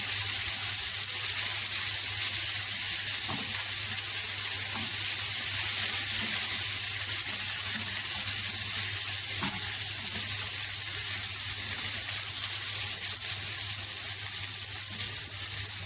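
Meat for pot-style kebab (kebab halla) frying in a pot, a steady loud sizzle across the whole span with faint stirring clinks, no voices.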